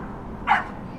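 A single short dog bark sounds once, brief and moderately loud, against a low background hiss.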